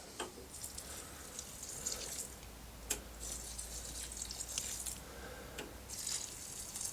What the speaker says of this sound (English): I'll just give them a drink of water to water them in.